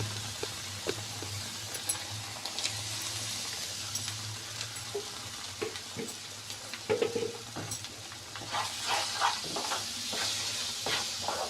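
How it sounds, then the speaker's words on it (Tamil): Grated watermelon rind halwa being stirred in a pan over medium flame, a steady soft sizzle with scraping strokes of a spoon, a low hum underneath and a few louder clinks near the end. "சேர்த்துட்டு நல்லா கை விடாமல் கிண்டிக்கிட்டே இருங்க"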